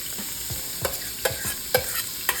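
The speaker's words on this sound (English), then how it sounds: "I put in some more toasted sesame oil, and now we're going to go in with the rest of our garlic and ginger." Garlic and ginger sizzle in hot toasted sesame oil in a very hot pan, a steady close hiss broken by several brief stirring scrapes and clicks at irregular intervals, with no talking.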